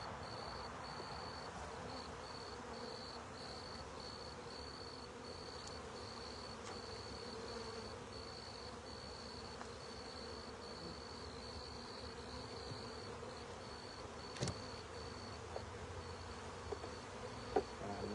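Honeybees fly around an open hive in a soft, continuous buzzing hum, fairly faint and steady, with a few small knocks and no speech.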